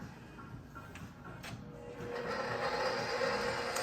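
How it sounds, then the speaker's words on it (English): A stand mixer runs on low speed, kneading pizza dough flour with a steady mechanical whir and soft rhythmic clicking. The hum grows louder and fuller midway through, and no voices are heard. "We're going to put that in our mixer. And we're going to start that on a low speed."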